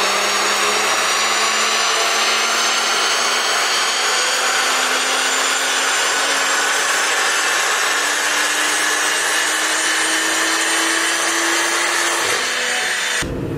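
A turbocharged car engine with an NVM 700 turbocharger on a dyno, running 99 RON fuel, climbs in a long, loud, rising rev to the limiter and then cuts off abruptly, with no talking.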